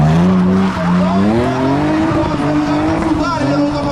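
A car drifts in long sideways slides at a town festival show, tires squealing loudly and continuously with a wavering pitch over engine roar, close and sustained.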